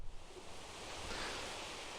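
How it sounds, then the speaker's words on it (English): Ocean waves wash steadily onto a shore in the Island visual novel game, a soft continuous surf hiss that swells slightly midway and holds at an even, moderate level with no voices. "It's the sound of waves. You always hear it on the shore."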